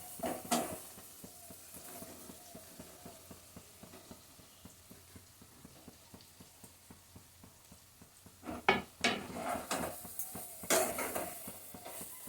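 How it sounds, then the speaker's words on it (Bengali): Fried onion slices and soybeans are stirred into white pulao in a pot with a spoon, giving a soft steady scraping and gentle sizzle, then louder clanks and stirring scrapes near the end. "সবগুলি উপকরণ ভালো করে মিশিয়ে নিই"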